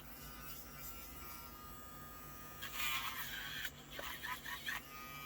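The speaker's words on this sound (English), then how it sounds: "I don't think I drilled all the way through. So let me just do that really quick." A small rotary drill whines steadily while boring a hole through a UV resin bookmark, growing louder and rougher as the bit bites in, with brief stops and restarts near the end.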